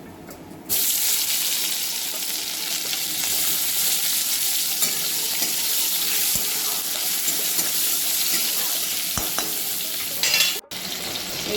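Tomatoes fry in a pan after a tempering of cumin, bay leaf, dried chilli and cinnamon for mixed dal, giving a steady close sizzle with faint stirring and a brief clatter near the end.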